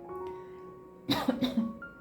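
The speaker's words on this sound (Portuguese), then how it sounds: "Me desculpe a tosse" A few close, harsh coughs in quick succession, loud against a quiet background with a faint steady hum.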